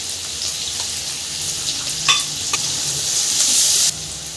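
Sliced onions sizzling in an oil pan with a sprinkle of turmeric while cooking a cauliflower curry, a steady bright hiss with a few clicks of stirring, close and continuous, no talking.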